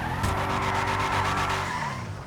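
A Declasse Yosemite drift truck in GTA V skids with a loud, sustained tire screech over a droning engine that holds for about two seconds and then eases off.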